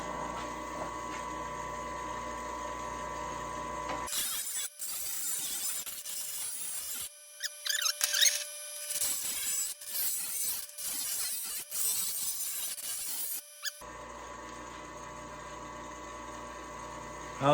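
Angle grinder cutting into a damaged Honda lawn mower blade, a harsh continuous metallic grinding roughly ten seconds long that starts abruptly, wavers in intensity and then stops, loud and close.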